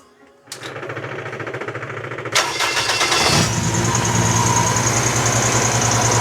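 A Vespa PX200 scooter engine cranks over briefly, catches with a sharp burst, then settles into a loud, steady, close idle that keeps running to the end.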